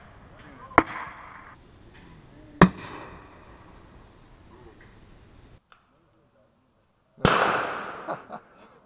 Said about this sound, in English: he's going to see if he can launch a tag round in on him